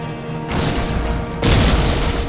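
Heavy gunfire and explosions from units opening fire in a Warhammer 40k video game roar in two dense, loud waves, the second swelling harder about halfway through.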